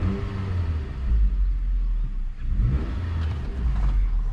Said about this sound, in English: but I'm just going to give it a little bit of a rev up.